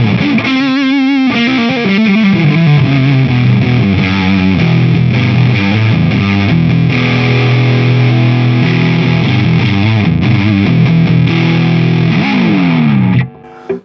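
Electric guitar on the rhythm pickup through a Boss OS-2 Overdrive/Distortion pedal with distortion and tone turned down slightly, playing loud sustained distorted chords and riffs that ring out continuously before stopping abruptly at the end.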